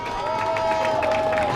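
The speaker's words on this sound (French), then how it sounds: "Je voudrais que vous applaudissiez très très fort pour ces amis fidèles." A crowd at a political rally applauds and cheers loudly in one continuous dense wash of clapping, with a faint voice carrying above it.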